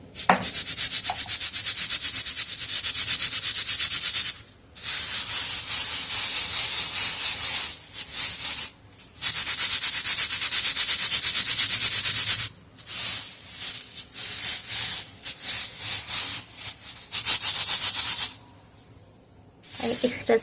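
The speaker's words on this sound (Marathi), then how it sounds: "आपण हे पोहे थोडे थोडे करून गाळून घेऊया म्हणजे स्वच्छ करून घेऊया" Flattened rice (poha) shaken through a sieve makes loud, continuous hissing and rasping bursts. The bursts stop briefly several times between handfuls.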